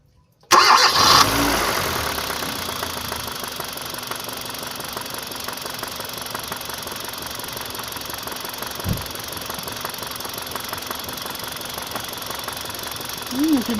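A car engine with a knocking fault cranks, catches and settles into a steady idle with a faint rhythmic knock, the start sudden and loud after brief silence.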